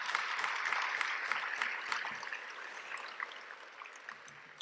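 Steady applause from a crowd at a high school DECA induction ceremony, a dense wash of clapping that holds at an even level and fades slightly toward the end.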